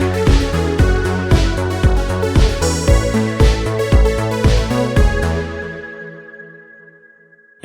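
An Italo disco synth hook plays with the full 1980s-style arrangement, loud and dense with steady driving beats and a bright lead melody, before the mix cuts out and a single sustained high tone rings on alone.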